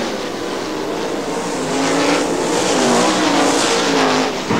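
410 sprint cars race around Butler Motor Speedway, a loud, steady engine roar that swells and holds as the cars pass, with faint tire noise beneath.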